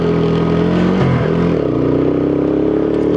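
A WK Maverick 125 motorcycle accelerates with a loud, gruff engine drone, close to the rider, its pitch dipping briefly then climbing steadily through the gear.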